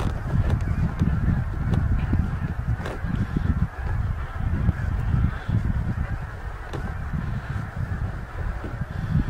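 A large flock of geese honking continuously from a distance in a Colorado field, overlapping calls forming a steady outdoor chorus with no talking.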